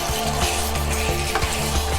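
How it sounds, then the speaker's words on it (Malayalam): Marinated beef sizzles as it is sautéed and stirred in a pot for Thalasseri biryani, a steady, close frying hiss with faint utensil scrapes and no voices. "ബീഫ് ചേർത്തതിന് ശേഷം 2-3 മിനിറ്റ് ഒന്ന് വഴറ്റി കൊടുക്കുക."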